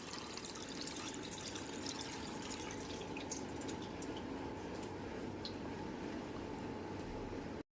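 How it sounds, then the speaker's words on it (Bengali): Cold water pours steadily over freshly drained pasta sitting in a colander, a continuous splashing stream that holds an even level for several seconds and then stops abruptly. "সমস্ত পাস্তাগুলো ছিদ্রযুক্ত থালা ঢেলে নেওয়ার পর এর মধ্যে ঠান্ডা জল দিয়ে দিচ্ছি"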